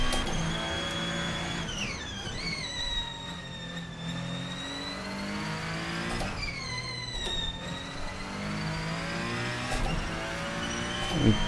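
A Ferrenzo P49 race car engine in an Assetto Corsa mod whines and revs continuously, pitch rising and dropping through gear changes and off-throttle moments, loud and steady for the whole stretch.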